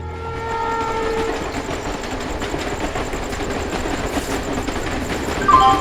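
Recorded train effect played over a school annual day stage PA, with a steady rumble and rattle of railroad cars rolling in. It runs loud and continuous, with a horn-like tone in the mix and no talk.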